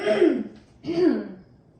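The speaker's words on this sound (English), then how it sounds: "give me a good little cough, like you're clearing your throat" Two throat clearings during a bedside swallow evaluation, one after the other, close and moderately loud, each a short rough rasp with a brief pause between them.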